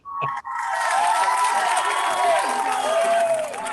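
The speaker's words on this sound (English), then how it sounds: "You deserve every round of that applause." A studio audience at a talk show bursts into sustained applause and cheering after a short clap or two, a dense, loud wash of clapping and whoops that holds steady to the end.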